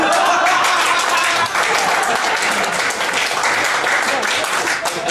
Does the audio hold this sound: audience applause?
yes